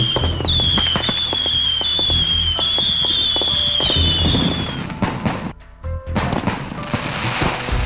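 Diwali firecrackers burst in rapid strings of sharp crackling pops, with whistling rockets rising and loud bangs close by, dense and continuous before a brief lull.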